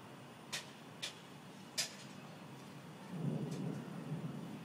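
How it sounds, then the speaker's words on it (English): Low distant thunder from an approaching storm swells into a soft rumble, with a few faint sharp ticks before it; quiet and far off, with no talking. "I love watching storms come in."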